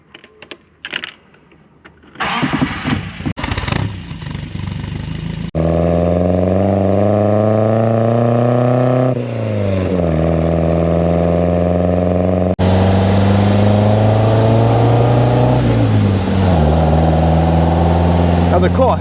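A 1959 MGA roadster fitted with a pushrod engine in place of its original twin cam, with rebuilt carburettors and electronic ignition, starts up, idles smoothly, then revs twice with rising and falling pitch, close and loud.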